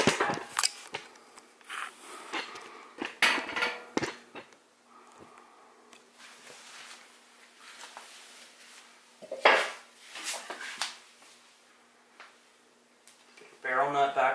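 Metal brake parts from a vintage Honda Z50 front wheel are handled and fitted back together, giving sharp clinks, clatters and scrapes in irregular bursts, close by, with quieter pauses between them.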